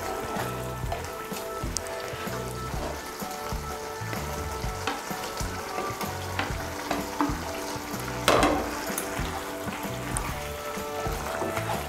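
Fried eggs simmering in a Bengali cabbage curry, a steady close sizzle and bubbling with occasional stirring clinks and scrapes in the pan, continuous throughout.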